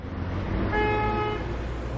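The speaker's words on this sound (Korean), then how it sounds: "자동차, 전철, 다양한 소음이 들리네요" Steady car traffic rumbles across a bridge over Seoul's Han River, and one car horn honks in a single sustained blast partway through, fairly near, with no talking.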